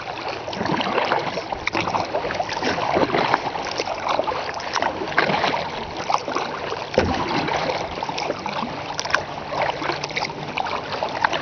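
Kayak paddling through weedy lake water, steady close splashing and swishing with dense broadband water texture throughout, a faint outdoor ambience behind and no talking.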